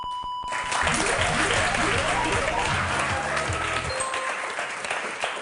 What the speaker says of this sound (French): je voudrais qu'on applaudisse très fort Cédric et Christophe.